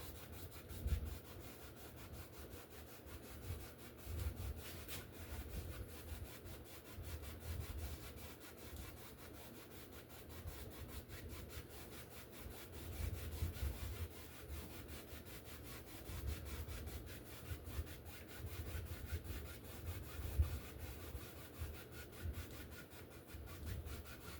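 Oil paint brushed in small crisscross strokes over canvas while blending a sunset landscape: a dry, scratchy rubbing that repeats in steady back-and-forth pulses, close and fairly quiet, with no voices.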